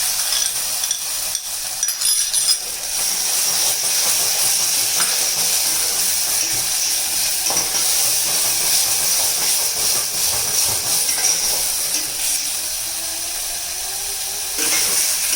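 Tomato gravy poured into a hot pan sends up a loud, continuous sizzling hiss that stays strong for many seconds before easing slightly toward the end, close by and with no speech.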